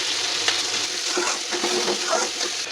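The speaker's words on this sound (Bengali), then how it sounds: "আর এক চামচ হলুদের গুঁড়া একটু জল দিয়ে কষাবো মশলাটা" Spiced masala of chilli powder, turmeric, salt and a splash of water being fried and stirred in a pan, a steady close sizzle with scraping strokes of the spoon throughout.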